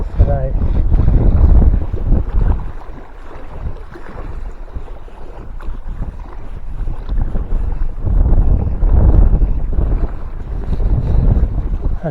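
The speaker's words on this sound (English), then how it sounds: "Strong windy conditions today." Strong wind at Claerwen Reservoir roars and buffets the microphone continuously, rising and falling in gusts, loud and close.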